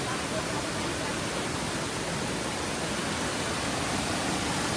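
A waterfall stream pours steadily while rain falls, forming a dense, constant, loud rushing wash with no pauses.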